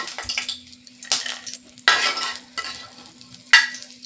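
Bori lentil dumplings fry in hot oil in a pan, a few separate bursts of sizzling with spatula scrapes and clinks between quieter stretches, close and alone over a low steady hum.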